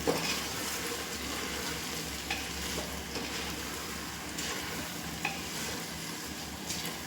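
Rice and water being stirred into a pot of tangy, spicy gongura chicken biryani, a steady wet sizzle and scraping with a few soft clinks, continuous and close with no talking.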